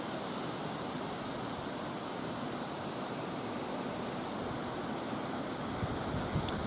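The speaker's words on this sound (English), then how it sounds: "the wind's getting blustery" Strong, blustery wind buffets the microphone on an outdoor back porch, a steady broadband roar that holds for the whole stretch, loud and close, with no voices.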